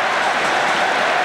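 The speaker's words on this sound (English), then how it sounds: "The crowd are cheering him on." A stadium crowd at the Bislett Games athletics meet in Oslo roars and applauds as a runner nears the finish of a 3000m race, a dense, loud, unbroken wash of cheering.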